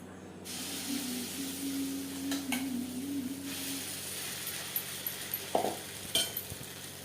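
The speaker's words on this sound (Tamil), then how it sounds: "இது சூடாகிட்டு இரும்பு இல்பச்சட்டியில் எண்ணெயை விட்டு வாக்கணும்" Oil heating in an iron pan for thavala adai gives a steady soft hiss and sizzle throughout, with a few light metallic clinks of a utensil near the end; no talking.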